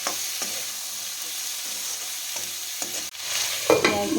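Chayote and potatoes seasoned with salt and turmeric fry in a pan, with a steady sizzle under a few close scraping stirring strokes and louder clatter near the end; no one speaks.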